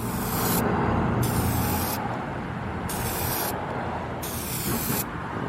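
SEM Color Coat aerosol paint sprayed onto car plastic trim in light coats, heard as loud, close hissing bursts of about a second each, repeated four or five times with short gaps between.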